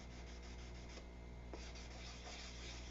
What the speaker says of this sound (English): That's how much sanding will go in it.